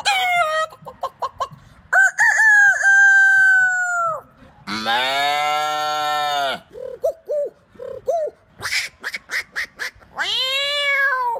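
A voice imitates animals and birds in quick succession, producing rooster crows, clucks and cat-like cries as loud, close calls separated by short pauses.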